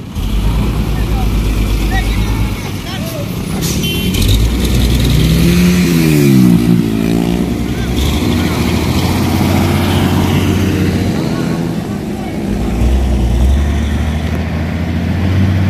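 Colt diesel truck engine revving as it pulls forward on a steep hill climb, a loud rising roar over steady rumble, with people talking nearby.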